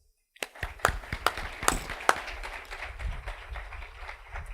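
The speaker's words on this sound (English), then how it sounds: "So let's all give her a warm and welcoming applause" Audience applause for a speaker at an entrepreneurship week event: after a moment of silence, distinct individual claps ring out, then the clapping thickens into softer, steady applause from a smallish crowd.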